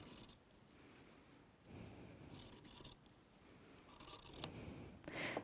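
Sewing scissors cut through fabric along a seam allowance, quiet close snips and rustling blade strokes repeating unevenly over several seconds.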